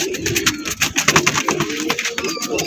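Pigeons, including a young one, about to be released for flight coo and stir close by in a rapid patter of soft calls and fluttering, with no talk.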